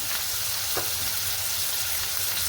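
Tomato and onion fry in a pan while being stirred, giving a steady, close hiss of sizzling with faint scraping throughout and no voices.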